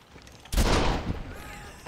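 A single sharp gunshot in Red Dead, loud and close, followed by a short decaying tail.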